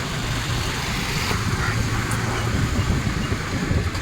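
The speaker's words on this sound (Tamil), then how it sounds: "நிறைய பேர் எங்களையும் ஓவர்டேக் பண்ணி போயிட்டுருக்காங்க. ஃபுல்லாக கண்டெய்னராக தான் இருக்குல்ல." Steady roadway noise from vehicles and container trucks overtaking on a highway during a motorbike trip, a continuous low rumble with wind, no voices.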